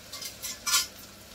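A spoon stirs masala into a dish in a pan, making three quick scraping swishes close by, the last one the loudest, in a brief moment with no voices.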